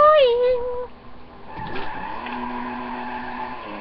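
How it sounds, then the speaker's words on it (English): Pimped-out 1960s Corvette-style Coquette Classic in GTA 5 revving its engine: a short rising engine whine at the start, then a brief tire screech and a sustained steady engine tone, fairly close. "Hear that engine purr!"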